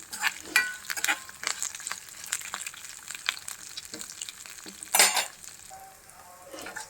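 Spices for tempering crackle and sizzle in hot oil with sharp popping bursts, loudest near the middle, then a quieter steady fry.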